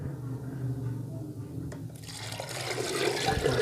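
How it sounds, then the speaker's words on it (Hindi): Water pours into a pot of mixed dal, a broad splashing, gurgling fill that swells over the last two seconds, with lower cooking background noise underneath. "6 गिलास पानी शामिल करेंगे।"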